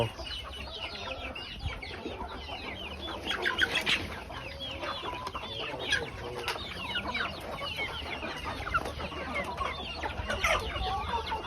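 Many chickens cluck continuously at a busy poultry yard, with overlapping calls from hens and chicks and no talking.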